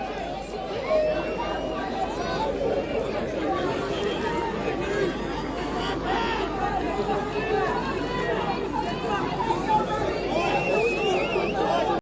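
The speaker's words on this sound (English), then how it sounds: "there's people here trying to get the crowd to move on now" A large, loosely organized street protest crowd in Melbourne mills about, with a dense, continuous babble of many overlapping voices and a steady background hubbub close around.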